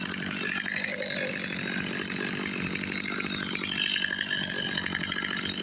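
A STIHL MS 250 C chainsaw cuts oak firewood, its engine holding a loud, continuous snarling buzz close by with no pauses.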